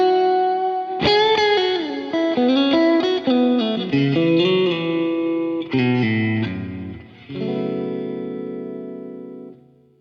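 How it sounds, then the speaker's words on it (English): A guitar phrase of quick picked notes through a Boss Tube Amp Expander Core reverb washes into a big, spacious reverb, ending on a long sustained chord that slowly fades. "Now what I want from this part is a really big reverb and delay."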